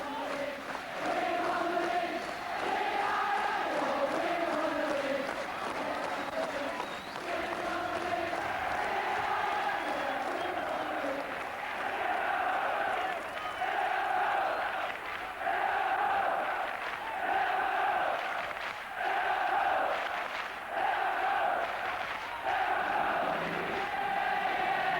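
Kop crowd at the Liverpool football ground singing and chanting together, a continuous loud mass of voices with sung tones and rhythmic surges throughout.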